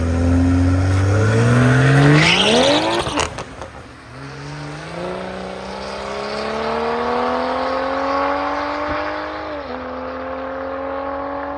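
A turbo V6 Honda Civic on mud tires launches down a quarter-mile drag strip, engine revving loud and high through a gear change, then a steady rising drone as it pulls away, with a whirring tire hum.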